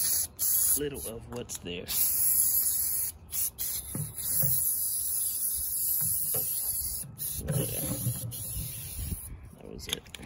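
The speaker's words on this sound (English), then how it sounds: "This is brake cleaner." Brake cleaner spraying from an aerosol can while working on a Lexus audio amplifier, a steady hiss broken into several short bursts, close by, with someone talking intermittently over it.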